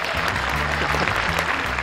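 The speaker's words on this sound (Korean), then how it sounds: "박수!" A crowd gathered for a Korean film event applauds in a dense, steady patter of many hands clapping, even in loudness throughout and heard without talk.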